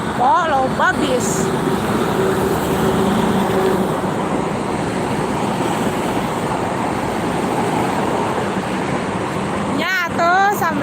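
Heavy traffic with buses on the Jakarta–Cikampek toll road at night, a steady loud broadband road roar heard from inside a moving vehicle, with brief talk at the start and end.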